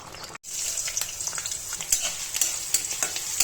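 Onions and green chilies sizzle steadily in a hot pan at close range, with a spatula scraping and stirring now and then.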